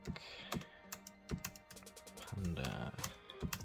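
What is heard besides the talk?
typing on Doqo wireless keyboard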